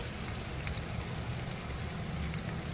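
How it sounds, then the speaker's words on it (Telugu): Steady rain patters on a surface, a soft continuous hiss with faint drops, no voices. "ఈరోజు వర్షంగా ఉందని"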